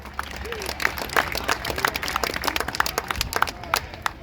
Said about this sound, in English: How about a round of applause one more time for Robbie Gordon Douglas?